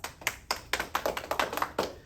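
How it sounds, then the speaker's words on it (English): A small group of children claps in a short round of applause, quick uneven hand claps close by, lasting about two seconds with no talking. "Give yourself a round of applause."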